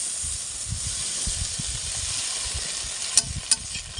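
A steady bright sizzle of ginger garlic paste frying in hot oil, close and continuous, with a couple of sharp pops near the end.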